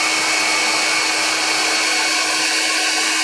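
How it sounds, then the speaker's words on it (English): A hair dryer blows heat over oiled, tooled leather, a steady close broadband whoosh with a constant whine running alone and unbroken. "I'm going to take a hair dryer, put a little heat to this"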